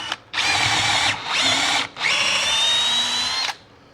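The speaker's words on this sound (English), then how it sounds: "I already have my lag bolts ready to go. And we're just gonna run them right in place." Power drill driving lag bolts into wooden boat trailer bunks for a 1448 jon boat, three loud sustained whirring bursts with short pauses between, the last one longest, close and alone.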